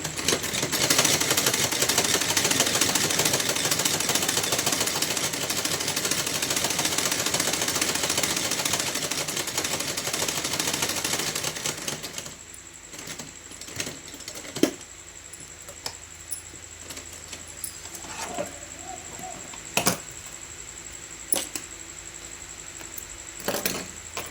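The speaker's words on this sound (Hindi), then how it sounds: "ये देखिए इस तरह से पकड़ते हुए सिलाई लगाएंगे।" A sewing machine stitches a seam on a small Laddu Gopal doll dress cut from a straight strip of fabric, running as a steady dense whir for about half the time, then stopping, leaving only scattered clicks and handling taps.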